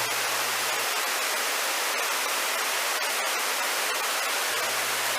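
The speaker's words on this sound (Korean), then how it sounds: "상단과 하단의 폭포 모습입니다." A mountain waterfall on Myeongseongsan in Pocheon pours in a constant dense hiss of falling water, loud and unbroken for the whole clip, with no voices.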